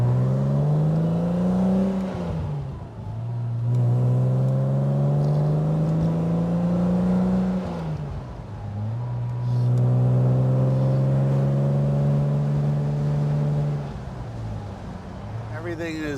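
A 1962 Aston Martin DB4 Series 4 Special Series Convertible on a road test, heard from the passenger seat: the engine climbs steadily in pitch through the gears, with clear dips at each shift and a loud, smooth, sustained drone.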